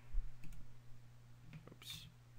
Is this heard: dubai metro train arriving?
no